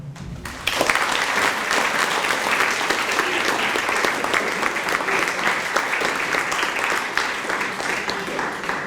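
Audience applause at a middle school grade 8 awards and promotion ceremony, a sustained crackle of many hands clapping that starts abruptly after a brief voice and continues steadily throughout.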